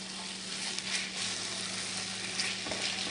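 Chopped parsley stirred into beef short ribs braising in a pot, a steady dense sizzle with a low hum beneath and light scraping from the stirring, no talk.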